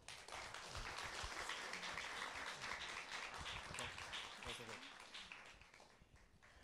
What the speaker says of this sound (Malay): Tepukan sekali lagi buat mereka.